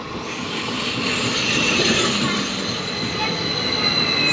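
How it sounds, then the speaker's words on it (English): A train pulls into a station in Luxembourg with a loud, sustained rumble and high metallic wheel squeal rising and falling as it rolls in close by. "Here's the train."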